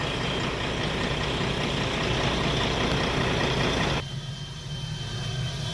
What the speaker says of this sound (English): It's amazing how quiet that prop is in flat pitch.